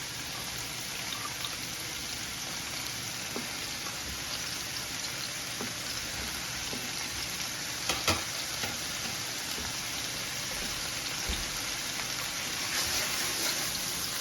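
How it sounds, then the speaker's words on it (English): Chopped onion and pepper frying in a pot, a continuous close sizzle and crackle with scattered pops, no talking. "I'm just gonna add a little bit of onion, pepper. Let this fry it up for a minute."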